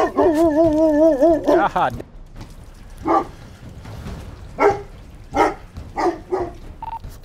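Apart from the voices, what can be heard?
very large dogs barking behind a house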